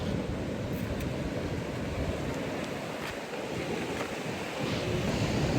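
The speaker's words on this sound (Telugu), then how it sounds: "బీచ్ రాక్ బీచ్కి వచ్చినాం" Ocean surf at Rock Beach in Pondicherry, a steady broadband wash of waves with constant wind rumble throughout, loud and close with no breaks.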